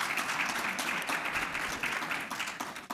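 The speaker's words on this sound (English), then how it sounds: "one more round of applause for our great panel that we have up here today" A conference audience at CANTO 2024 in Miami gives a round of applause for a panel, steady, fairly faint clapping that tapers off at the end.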